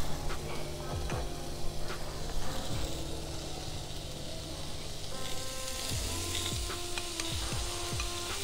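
Butter sizzling in a hot pan with roasting carrots, a close and steady crackling fry with occasional sharp pops and faint stirring clinks throughout.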